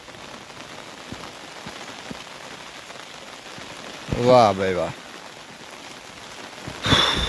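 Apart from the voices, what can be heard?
rain falling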